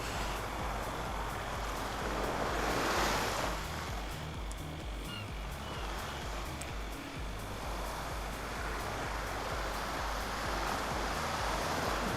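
Ocean waves wash steadily in InZoi, a constant broadband rush of surf with a slightly stronger swell near the start and no talk over it.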